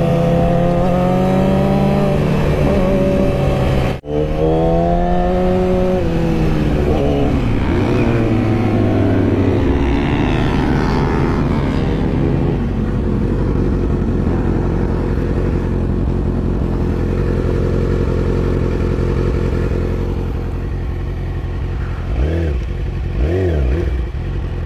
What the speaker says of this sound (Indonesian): Kita coba wheelie lagi